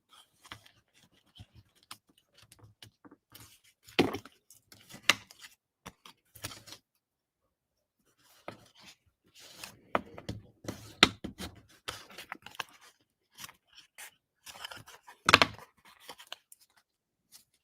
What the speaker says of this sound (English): let's take our bone folder and go ahead and fold on the score lines